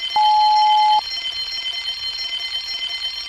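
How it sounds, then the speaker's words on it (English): An alarm sound effect in a Thomas the Tank Engine audiobook: one loud, steady electronic tone held for about a second, then cut off, leaving a faint hum. "Soon came the alarm."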